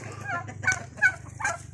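Turkeys on a farm that also keeps goats let out several short, burbling gobbles in quick succession, close and fairly clear over a low steady hum.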